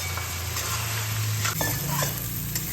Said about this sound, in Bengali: সামান্য জল দিয়ে মশলাগুলোকে আলুর সঙ্গে কষিয়ে নেব